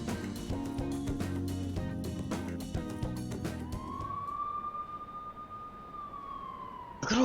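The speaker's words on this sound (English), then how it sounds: "Look at all those police cars." A police car siren in the video game Persona 5 Royal sweeps in and holds steady over busy game music and clicks, loud and close, before cutting off abruptly near the end.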